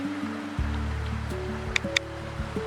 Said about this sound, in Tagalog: So, eto, napakalakas ng agos.